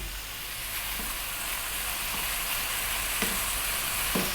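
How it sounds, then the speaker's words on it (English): Tomatoes and spices (chili powder, turmeric, cumin, coriander) with ground beef for keema matar sizzle and fry loudly in a hot pan, a steady hiss broken by a few soft stirring knocks. "let's drop in those tomatoes now"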